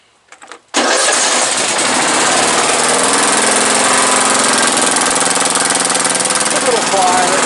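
A Briggs & Stratton 14.5 small engine cranks briefly, then catches and roars loud and steady close by, holding a continuous running drone for several seconds.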